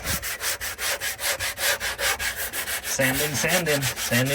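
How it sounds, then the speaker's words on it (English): Rhythmic back-and-forth sanding strokes rasp against a bathroom wall in a van, about two per second, close and steady, with a faint tonal whine joining partway through. "so we are just sanding"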